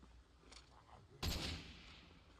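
AR-10 rifle in Project Zomboid firing, a faint distant crack followed by a louder single sharp shot that decays over a second, set against quiet background.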